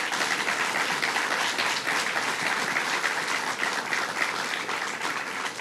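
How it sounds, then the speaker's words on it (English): A crowd at a governor's property-tax bill signing gives a continuous round of applause, dense and even from start to finish, with no voices over it. "let's give him a round of applause"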